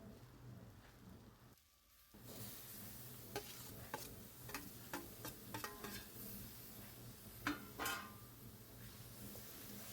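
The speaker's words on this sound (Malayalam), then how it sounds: "ഇനി ഇതിലേക്ക് ഒരു 6 തക്കാളി, ചെറിയ തക്കാളിയാണ്, അത് ഞാൻ ചെറുതായിട്ട് അരിഞ്ഞ് അതും കൂടെ ചേർക്കുകയാണ്" Chopped small tomatoes fry in hot oil in a pan, a steady soft sizzle broken by a few sharp scraping stirs of a spoon, close but quiet, after a brief dip in sound near the start.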